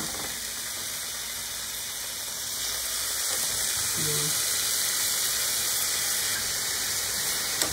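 Turkey bacon fries in a little olive oil in a pan, giving a steady, loud broadband sizzle and hiss that builds slightly partway through.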